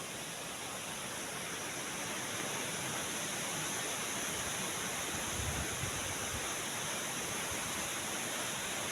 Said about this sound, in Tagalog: Talagang parang bagyo na po ang hangin dito.